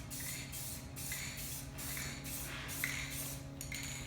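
Aerosol rattle can spraying clear coat onto a custom CaseLabs PC case, a steady hissing spray in repeated short passes of about half a second each, close and fairly quiet, with no talking.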